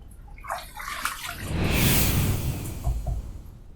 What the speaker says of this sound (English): Second pass done. Let's rinse.